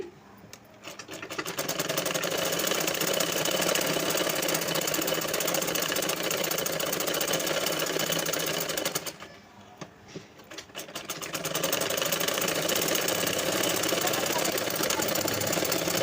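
A sewing machine runs steadily while stitching lining around the edges of main cloth for a dress made from an old saree, a continuous close motor whir that stops briefly midway and then resumes.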